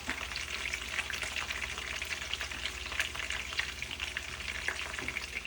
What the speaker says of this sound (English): meatballs are ready to go into the pot, nice and browned